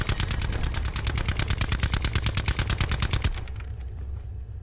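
Rapid automatic gunfire from a weapon in Call of Duty Blackout, played solo on PS5, firing as a loud, steady stream of evenly spaced shots for about three seconds before cutting off into a faint tail.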